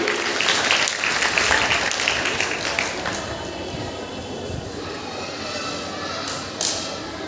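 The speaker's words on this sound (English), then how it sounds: "Give round of applause to students." A crowd at a school celebration claps in sustained applause that is loudest at the start and gradually fades to a lighter, steady patter.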